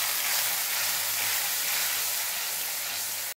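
Ground spice paste with turmeric sautéing in a pan for alu vadi, giving a steady, bright, close sizzle that holds evenly and then cuts off.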